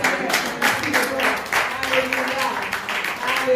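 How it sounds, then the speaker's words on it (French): A church congregation applauds, with a run of irregular claps repeating steadily, fairly close and loud, mixed with voices over the clapping. "Applaudissons le Seigneur."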